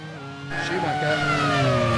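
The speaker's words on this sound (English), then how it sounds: "There is the Ferrari, and that is Schumacher" A 1991 Ferrari Formula One car driven by Schumacher at the European Grand Prix passes with a high rising engine whine that swells and holds, close and loud, under race commentary.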